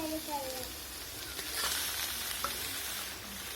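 Mashed boiled potato being stirred into a sautéed filling in a pan, giving a continuous soft sizzle with gentle scraping, and faint talk in the background.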